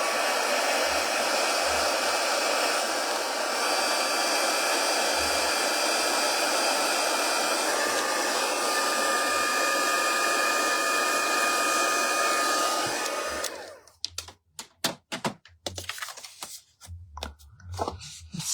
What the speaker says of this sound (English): Ooh, heat gun.